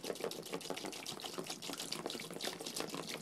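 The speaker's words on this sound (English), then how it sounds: "I have a plastic container here next to my workstation, and I'm going to put water into it" Water poured from a tap into a plastic container beside a woodburning workstation makes a soft, continuous trickle and splash, quiet and steady throughout.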